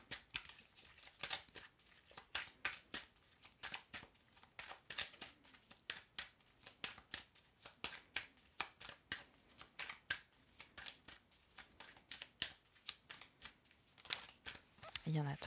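A deck of feeling cards shuffled by hand, with repeated quick papery flicks and riffles in an uneven rhythm, close and fairly quiet, over roughly fifteen seconds.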